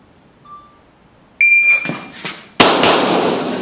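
Pistol shots during an El Presidente shooting drill at a gun range: a timer beep, then a quick string of loud, sharp cracks, close and ringing, with echoing reports after a brief pause.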